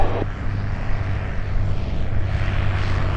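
A tail-dragger airplane flies low along the runway at the EAA AirVenture Oshkosh fly-in, its propeller engine droning loudly and steadily close by throughout.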